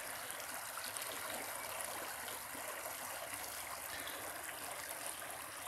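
A shallow sandy creek near an old sawmill site flows with a steady, even wash of rushing and trickling water that holds constant throughout, moderately quiet and with no voices.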